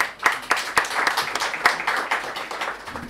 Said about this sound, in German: Ein Applaus für Sascha